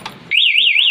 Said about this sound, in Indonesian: maka alarm ini tetap akan berbunyi keras dan motor tidak bisa dihidupkan sama sekali